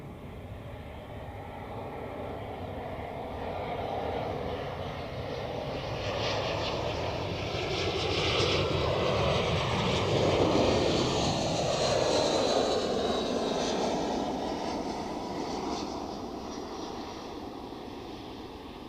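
An Air Serbia Airbus A319 jet arrives at Zurich Airport, its engine roar swelling from a distant rumble to a loud broad whoosh as it passes, then slowly fading.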